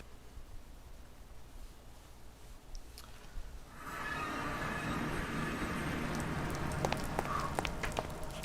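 Rain in Minecraft starts partway through, a steady broadband hiss of falling drops that swells after about four seconds and keeps up to the end, with a few sharper patters on top.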